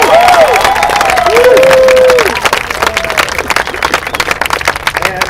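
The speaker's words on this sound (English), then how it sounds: "let's give them a hand for helping us today" At a San Onofre anti-nuclear rally marking the Fukushima anniversary, a brief voice gives way to a crowd's sustained, dense clapping and cheering that fills the rest of the moment.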